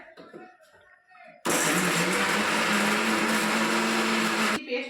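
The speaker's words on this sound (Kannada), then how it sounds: "ಇದನ್ನ ಫಸ್ಟಿಗೆ ರುಬ್ಕೊಂಡ್ಬಿಡ್ತೀವಿ ನೈಸಲ್ಲೇ ಪೇಸ್ಟ್ ಮಾಡ್ಕೊಂಡ್ಬಿಡ್ಬೇಕು" After some soft background sounds, a mixer grinder kicks on with a loud, steady whirring roar for about three seconds while grinding ingredients to a fine paste, then cuts off abruptly.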